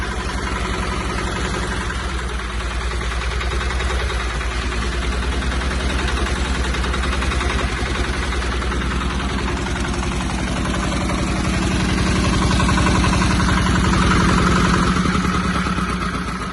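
A small single-cylinder engine on a Kentavr 160 walk-behind tractor idles loudly and continuously with a rapid, rattling chug, close by and steady throughout.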